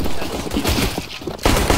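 Video game gunfire fires in dense, rapid bursts for the whole stretch. It drops briefly near the middle and resumes loud and continuous.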